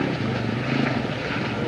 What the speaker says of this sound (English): There's one plane leaving. Taxiing out.